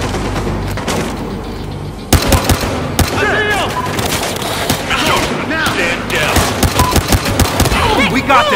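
Battlefield Hardline game gunfire: rapid bursts of close, loud shots and automatic fire crackle through a tense firefight, with shouted voices and distorted chatter mixed in.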